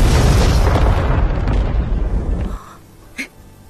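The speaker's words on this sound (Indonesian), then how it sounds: "Ledakan yang dihasilkan bahan itu sangat kuat, sehingga membuat semua musuh terdiam dan menyerah." A large explosion in the Dr. Stone anime, a powerful blast from an explosive material, roaring loud and broad for over two seconds before dying away, followed by a brief sharp pop.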